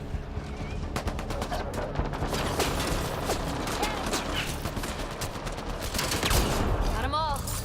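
Rapid gunfire from a Mass Effect Andromeda battle, dense bursts of shots and automatic fire crackling continuously, loud and close, with brief mechanical clatter and a voice talking over it toward the end.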